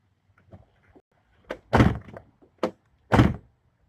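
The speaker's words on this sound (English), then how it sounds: "So let's see what happens if I open the door, if there's any binding." A Corvette car door with newly fitted front flares being opened, several close mechanical clicks and two heavy thunks from the latch and hinge, spaced over a few seconds.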